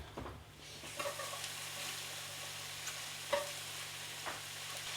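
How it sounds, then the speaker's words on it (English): Mushrooms sautéing in a pan, a soft continuous sizzle under a low background hum, punctuated by a few light scrapes and clinks as they are stirred, fairly quiet and close. "you do want to go ahead and stir the bottom mushrooms on top and get these that are sitting on top down against the heat"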